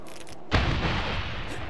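A frag grenade explodes in Medal of Honor (2010) combat, a sudden loud boom after a brief quieter moment, followed by a sustained rumbling roar of debris and gunfire.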